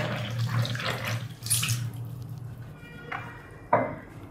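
Water from a tap runs into a rainbow-coloured basin as food is rinsed in a kitchen, quiet splashing and trickling that swells and fades with a sharper splash near the end.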